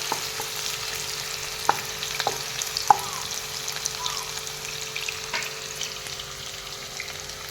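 Onions frying in a pan with whole cloves, cardamom and cinnamon, a soft constant sizzle with several sharp clinks and scrapes of a spoon against the pan.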